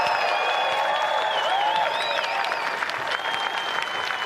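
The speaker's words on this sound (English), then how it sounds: "the biggest applause you can give to the 1986 New York Mets" A large ceremony crowd applauds the 1986 New York Mets, with dense, steady clapping and cheering that fills the space loudly from start to finish.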